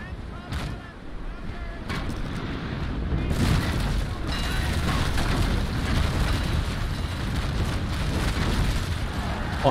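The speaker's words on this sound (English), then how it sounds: "Point blank fire." Naval Action ship cannons fire at point-blank range in a sailing-warship battle, several heavy booms in quick succession that roll into a sustained, dense rumble, loud and close with voices faintly underneath.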